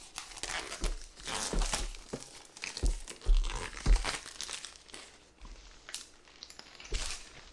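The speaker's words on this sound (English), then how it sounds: "We're going to do the unboxing here." Packaging crinkles and rustles while a DJI Mini SE drone is unboxed, bursts of plastic crumpling and tearing up close with soft handling thumps between them, no voices.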